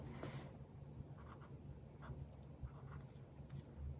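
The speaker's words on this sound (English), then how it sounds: "We can write the date" A pen scratches across paper as the date is written by hand, a faint, close series of small strokes in an otherwise quiet room.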